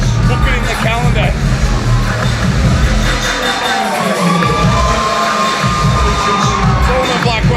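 Wrestling crowd at a live event cheers, shouts and claps in a loud, dense roar of voices that stays constant, with commentary-like talk mixed in underneath.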